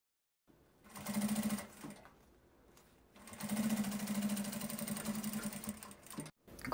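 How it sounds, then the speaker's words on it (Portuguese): A sewing machine stitches a fabric pocket onto the body of a small car trash bag. It runs in two bursts of steady, rapid needle chatter, the second longer, with a quiet pause between and no talking. "a gente vai costurando na bordinha, prendendo o bolso no corpo, até chegar no limite"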